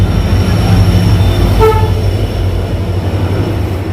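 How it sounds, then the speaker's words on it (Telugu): A train arriving at Madgaon station rumbles steadily nearby with a low, continuous roar, and a brief horn tone sounds once midway through. "సో ఫైనల్గా మనం ట్రైన్ అయితే వచ్చేసింది"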